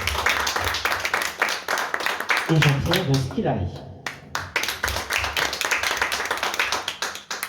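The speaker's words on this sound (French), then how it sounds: "on peut l'applaudir" Clapping from an audience at a literary conference welcoming an author, brisk clapping, interrupted by a brief spoken announcement midway, then resuming and continuing strongly.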